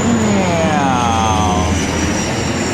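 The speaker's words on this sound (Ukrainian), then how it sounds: "Ще один літак знімлю для вас." An airplane roars overhead above a shopping area in Canada, loud and close, its engine pitch sliding downward as it passes.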